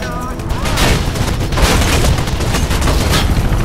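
Sustained machine gun fire from enemies in the parkour game Mirror's Edge, a loud, continuous dense burst of rapid shots running the whole stretch with someone talking over it.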